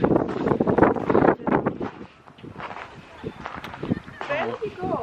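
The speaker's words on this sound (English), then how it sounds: "But it's very windy up here, very cold." Strong, cold wind blows across a hilltop near Mostar, rumbling and buffeting the microphone while people talk over it.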